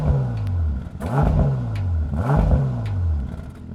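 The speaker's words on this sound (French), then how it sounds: "Donc il y a un rev limiteur à 3000 tours minute." A 2020 Bentley Continental GTC engine in comfort mode, capped by a 3000 rpm rev limiter, revs repeatedly, each pitch sweep climbing and falling back in a rhythmic cycle, loud and close with a deep rumble.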